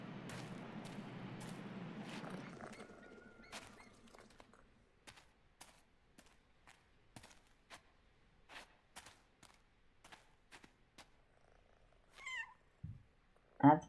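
Pet cats purr in the Powerwash Simulator 2 video game, a soft, close rumble in the first couple of seconds, followed by quiet scattered clicks and a few faint higher cries near the end.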